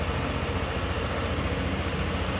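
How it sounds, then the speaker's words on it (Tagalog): A Yamaha NMAX v1 scooter engine, newly fitted with two replacement camshaft bearings, runs at a steady idle: a loud, even, low throbbing hum with no breaks and no talk. "Okay na yung andar niya, hindi na nakayod yung makina sa ilalim."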